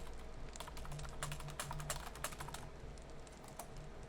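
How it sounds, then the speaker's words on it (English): Rapid, uneven keystrokes on a computer keyboard, clicking close by in quick clusters with short pauses, over a low steady hum and with no voices. "Now I gotta type this out again"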